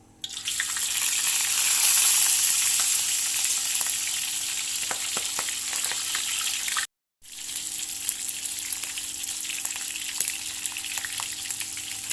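Pork pieces deep-fry in hot oil with a steady, bright sizzle that swells loud at first, then settles into a softer crackle with a few small pops, broken by a brief silent gap partway through.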